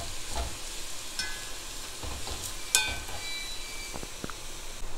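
Yam pieces are stirred and sautéed in oil, a soft steady sizzle under scraping spoon strokes with a sharp metallic clink near the middle.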